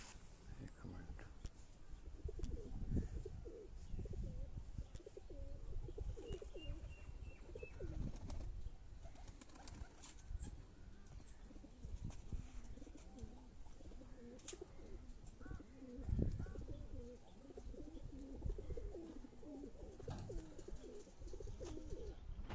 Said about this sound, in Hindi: ये सारे परवाजी कबूतर हैं